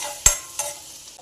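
Garlic and coriander stems are stirred in hot oil for a vegetable soup: two quick scraping strokes of a spoon over a soft sizzle, close and brief, with no voices.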